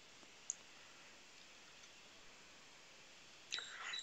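A single sharp mouse click sounds at a computer under a quiet background hiss, followed by a brief burst of soft clicking and shuffling near the end.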